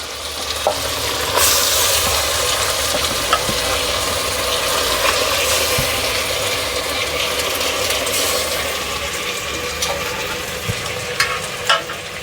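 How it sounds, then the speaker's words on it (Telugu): Marinated chicken frying in a pot for bachelor-style biryani, a loud, steady sizzle with scattered scraping and clinking of a spoon stirring against the pot, no talking. "మనం మ్యారినేట్ చేసుకున్న చికెన్ని వేసుకోవాలి"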